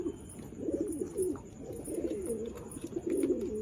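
Pigeons coo in a loft, soft throaty rolling calls repeating steadily over a low background hum, several birds overlapping at moderate distance.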